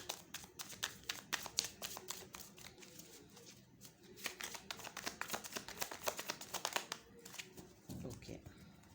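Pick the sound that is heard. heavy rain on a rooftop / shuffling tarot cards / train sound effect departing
shuffling tarot cards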